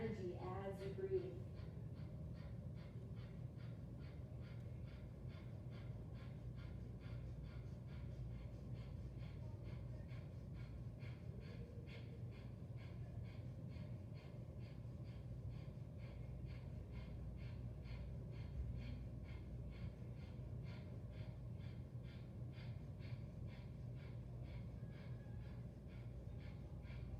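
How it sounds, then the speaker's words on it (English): Rapid, steady bellows breathing in a yoga class, fiery rhythmic huffs repeating evenly and quietly for a long stretch. "this bellows breath. It's this fiery breath that we use 108 times"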